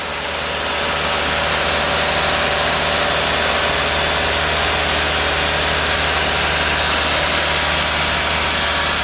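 Hot car engine idling steadily during a radiator coolant service on a service machine, a loud, continuous, even hum with no talk over it.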